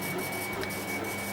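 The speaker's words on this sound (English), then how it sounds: "this is my 3D printer" A dusty 3D printer in a home workshop hums steadily at close range, with a thin high whine and a soft mechanical whir running evenly throughout, and no one speaking.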